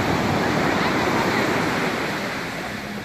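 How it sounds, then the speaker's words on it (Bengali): Sea waves break on the beach at Digha, West Bengal, in a loud, close, continuous wash of surf that fades slightly toward the end, with no voices. "সমুদ্রের এই ঢেউয়ের আওয়াজ সত্যি আমাদের মন ছুঁয়ে যায়"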